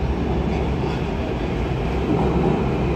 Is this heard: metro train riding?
yes